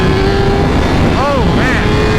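A Honda CBR1000RR-R SP superbike engine is at full throttle, a steady loud roar throughout, with a brief rising whine near the middle.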